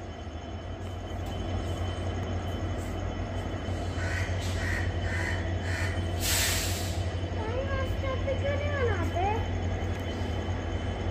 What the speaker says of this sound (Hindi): ट्रेन आ रही है कोई